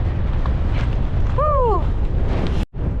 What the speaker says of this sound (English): It's rather blowy up here. Oh, and it's really cold. Biting wind.